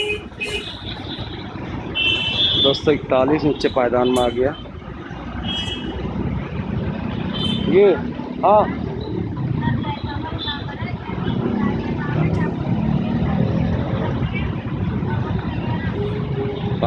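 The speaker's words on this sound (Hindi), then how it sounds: "क्या शानदार आवाज है ट्रैक्टर की" Massey Ferguson 241 DI 42 HP tractor engine running, a steady low diesel rumble that holds throughout, with people talking over it.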